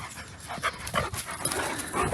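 A German Shepherd out on a hike pants rapidly and close by, a quick rhythmic huffing that continues steadily throughout.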